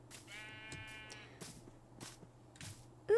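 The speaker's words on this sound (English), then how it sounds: "Ooh, more sheep." A Minecraft sheep bleats once, faint and quavering, followed by soft scattered game noises and a brief sharp sound at the end.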